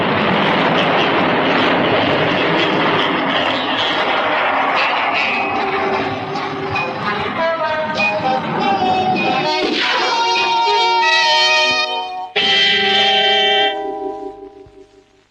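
Space shuttle liftoff in the 1979 James Bond film Moonraker: a loud, broad engine roar that builds and then gives way to swelling orchestral music, fading out at the end.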